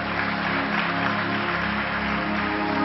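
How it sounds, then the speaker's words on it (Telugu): Audience applause in a hall, steady dense clapping that holds at an even level for a few seconds with no voices. "గట్టిగా చప్పట్లు కొడదాం"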